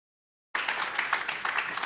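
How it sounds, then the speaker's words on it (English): An audience breaks into sustained clapping for the CEO at the launch of a 10-X innovation hub. The applause starts abruptly after a brief silence and holds steady and dense until the end. "I think you can clap for the CEO."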